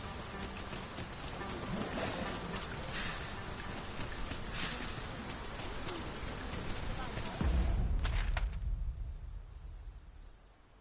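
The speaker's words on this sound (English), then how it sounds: "We must be really down on our luck to get caught out in such a downpour." Heavy rain pouring down during a downpour in the video game Dragon's Dogma 2, a steady hissing patter with spattering drops, a brief louder burst near the end before the rain fades to a dull low rumble.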